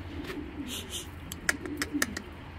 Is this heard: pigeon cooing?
yes